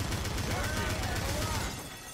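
In GTA Online, rapid automatic gunfire rattles in a fast, even stream of loud bursts for about two seconds, with a voice shouting over it.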